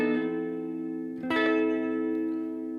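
Two sustained electric guitar chords through compression, delay and reverb, ringing out with a spacious, echoing tail, the second struck after a brief pick scrape.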